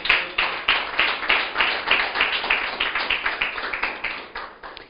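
Congregation clapping rhythmically together at a church sermon, a steady fast beat of many hands filling the room, loud and continuous with no talk over it.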